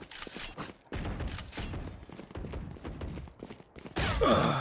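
Gunfire from the competitive shooter game Valorant, bursts of rapid shots rattling close over a busy background, with a louder final burst at the end.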